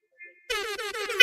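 A short, loud air horn blast at an election watch party, arriving abruptly after near silence and sounding in a few quick pulses.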